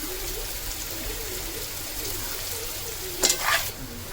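Ginger garlic paste fries in a pan with a steady, close sizzle, then a sharper crackle and spatter briefly swells before the hiss settles back.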